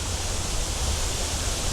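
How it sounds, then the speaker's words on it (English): Waterfalls in the oasis area of a theme park: a dense, steady rushing wash of falling water, constant and fairly close, with no voices. "You've got all the waterfalls around."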